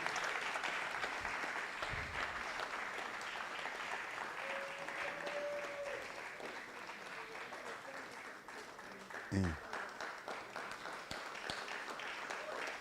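A crowd at an AI training launch ceremony applauds continuously and evenly during a certificate presentation. The clapping is moderately faint, with a brief tone and a thump near the end.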